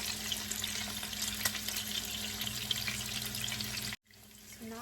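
Pork chops frying in a pan over medium-low heat give a steady, dense sizzle that runs without a break, then cuts off sharply near the end before a quieter crackle comes back. Nobody speaks.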